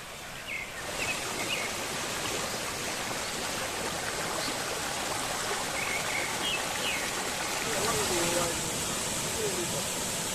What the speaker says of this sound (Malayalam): ചൂരം വെള്ളച്ചാട്ടത്തിലേക്കാണ് നമ്മളിന്ന് പോകാൻ പോകുന്നത്.